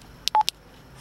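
Keypad tones from a Wouxun KG-UV8D handheld radio as a frequency is entered: a short burst of about four quick beeps, close and clear, with no talking.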